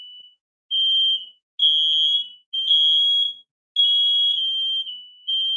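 Shrill electronic fire alarm sounding in loud, piercing bursts of roughly a second each, separated by short gaps, with nothing else heard.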